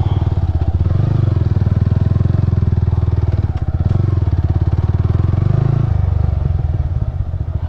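Motorcycle ridden over a rough off-road track near a remote Himalayan village in India, its engine droning steadily and loudly throughout with rattling clatter and bumps from the uneven ground.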